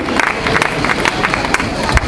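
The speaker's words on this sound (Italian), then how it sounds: "un applauso ad Antonio Briscione" A festival crowd in Contursi applauds and cheers for an introduced guest, loud dense clapping mixed with shouts and whoops, close and continuous throughout, with a voice over the noise.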